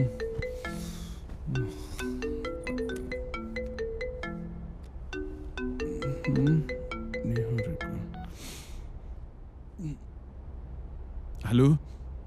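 An incoming phone call rings with a repeating melodic ringtone through much of the clip, interrupted by a short pause, at a moderate level over a low steady hum.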